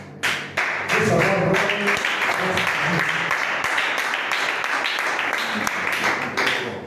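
A church congregation bursts into applause and cheering acclamation, dense close clapping mixed with shouts that runs nearly continuously for several seconds.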